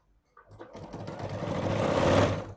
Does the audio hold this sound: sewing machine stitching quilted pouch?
yes